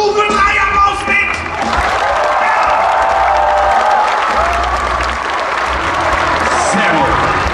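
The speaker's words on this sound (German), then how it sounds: "nehmt diesen Stufe 3 Applaus mit!" Loud, dense applause and cheering from the audience at an action stunt show at Movie Park Germany, with whoops and shouts mixed into continuous clapping that stays strong throughout.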